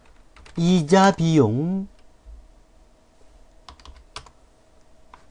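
Numbers are keyed in and Enter is pressed on a computer keyboard during accounting data entry. A short spoken phrase comes first, then sparse, sharp clicks follow alone.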